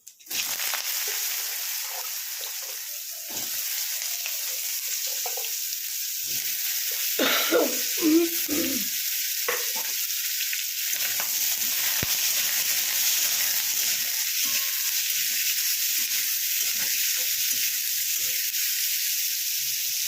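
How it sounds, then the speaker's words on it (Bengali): Potatoes frying in hot oil with panch phoron spices in a pan, a loud continuous sizzle and hiss with a few brief scraping stirs near the middle. "আলুগুলো 2 মিনিট ভেজে নেব।"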